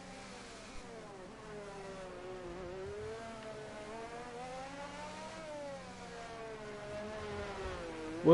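Formula 1 engines roar in the F1 22 racing game around the Miami circuit, a steady high whine rising and falling with gear changes and throttle, cars running close together.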